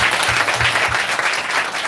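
A church congregation at a one-day revival meeting bursts into steady, loud applause, a continuous wash of many hands clapping with no talk over it.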